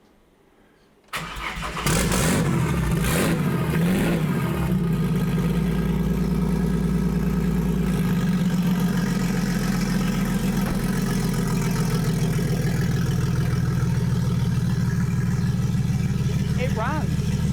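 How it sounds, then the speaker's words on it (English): A car engine cranks and catches after a second of near silence, then settles into a loud, steady idle running on its own in a home garage, with a faint speech-like sound under the engine. "It runs, it idles by itself."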